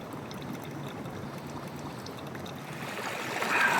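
Creek water flows in a desert canyon, a steady close broadband rushing and gurgling that swells slightly louder near the end, with no talk.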